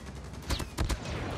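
Gunfire in the mobile shooter Call of Duty Mobile, with two or three sharp, loud shot bursts separated by short gaps over steady in-game background noise.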